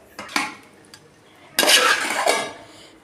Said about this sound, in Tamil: இந்த கிண்டுறேன் பாருங்கள், இதுதான் கஷ்டம்